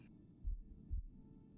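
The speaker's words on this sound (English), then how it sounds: "Is it a heartbeat, Matthew?" A heartbeat sound effect from Syrinscape during a D&D tabletop session, two low, soft, muffled thumps about half a second apart, quiet and isolated.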